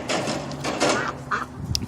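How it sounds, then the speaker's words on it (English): A small group of farm ducks quacks and honks continuously at close range, calls overlapping in a busy, raspy chorus. "A couple times a day, them quacking away."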